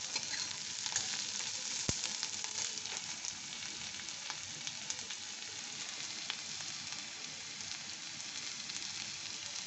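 Onions fry in hot oil in a pan, giving a steady, dense sizzle throughout with a faint clink near the start and no voices.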